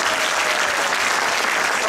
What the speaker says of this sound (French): nous allons l'accueillir sous un tonnerre d'applaudissements